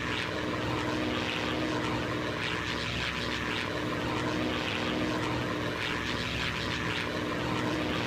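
Propeller aircraft flying at the RIAT airshow, a steady loud engine drone with constant propeller buzz sustained throughout, no voices over it.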